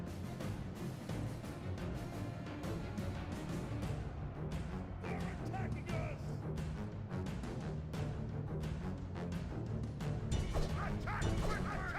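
Dogs barking, yipping and whimpering amid a Rome: Total War Remastered battle, war-dog units charging with their trainers, the barks repeated throughout over a dense, continuous din of combat.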